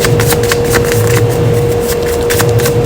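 Tarot cards shuffled by hand in a close, loud, continuous flutter of rapid riffling snaps, with a steady low hum underneath and no talk.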